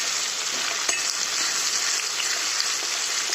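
Onion fries in a pan for a dal, a bright steady sizzling hiss with a single faint clink of stirring, no speech.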